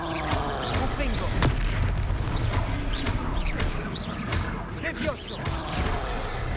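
Dense, noisy game combat from a Harry Potter video game, where a Confringo spell sets off a blast and crashes and rumbles carry on without a break. Someone speaks over the din.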